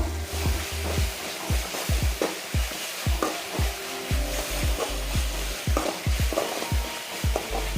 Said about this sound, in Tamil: அடுத்தது வந்து நம்ம இஞ்சி பூண்டு பேஸ்ட் போடுறோம்.